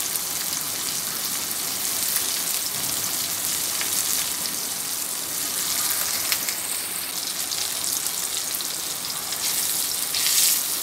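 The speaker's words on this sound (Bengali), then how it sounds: "এটাকে আমি 2 মিনিট সময় ধরে এভাবে ভেজে নিব" Tomatoes frying in a pan with oil and garlic for a tilapia fish-tail bharta, giving a steady close sizzle with crackling, dense and even throughout with no talking.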